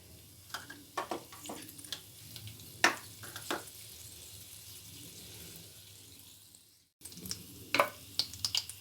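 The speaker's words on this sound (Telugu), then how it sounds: "ఇవి కొంచెం ఫ్రై అవుతున్నాయండి" Tempering sizzles and crackles softly in hot oil for Andhra-style chicken pickle. Scattered small pops rise over a low frying hiss, fade briefly, then return.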